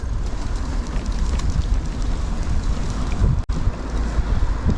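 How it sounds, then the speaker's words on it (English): Steady, blustery wind roars across the microphone at a disused railway goods yard, a low rumbling buffet that continues throughout with one brief dropout near the end. "It's a bit windy here"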